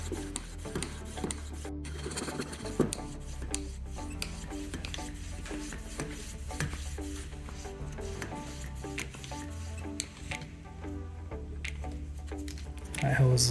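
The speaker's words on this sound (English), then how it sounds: "now I'm going to pump this thing, and the pressure is going to increase until it pops off" Hand pump on a pop-off tester working pressure into a Mikuni Super BN carburetor, a fairly faint series of repeated rasping, rubbing strokes in a steady rhythm, close by.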